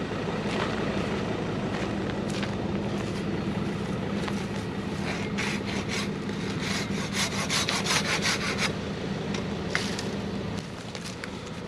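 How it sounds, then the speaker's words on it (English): A Silky hand saw cuts through wood to clear a bush track on Fraser Island, a steady rasping back-and-forth stroke rhythm running continuously and close, with no talking. "3 minutes with a silky saw."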